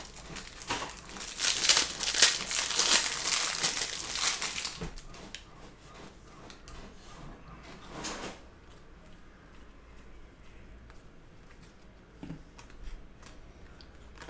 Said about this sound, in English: Let's rip open this box.